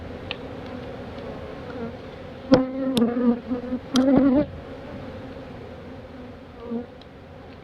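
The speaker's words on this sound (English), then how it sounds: "I got a bee stinging me in the hand." Bees buzz in a continuous, close drone around an opened beehive with brood frames, while a few louder knocks and rustles from handling the hive break through midway.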